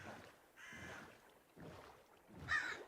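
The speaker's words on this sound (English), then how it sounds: "I have 2 crows with me." Crows caw in Minecraft, three separate harsh calls spaced across a few seconds, the last one loudest, with no talk over them.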